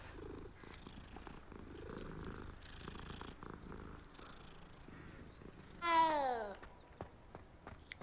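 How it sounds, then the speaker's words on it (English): A cat purrs softly and low while being petted in Hogwarts Legacy on Xbox Series S, beneath faint footsteps. Near the end a louder, clear meow rises briefly over the purr. "Oh, cat. You can pet it."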